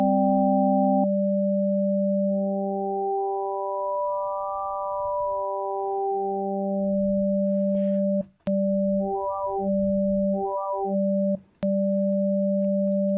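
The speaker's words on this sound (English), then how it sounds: "as destination, I look for oscillator 1 shape and index" Access Virus TI synthesizer pad with its oscillator wavetable shape swept by a slow bipolar LFO, steady sustained tones with shifting upper partials and stepped arpeggio-like blips, clean and alone.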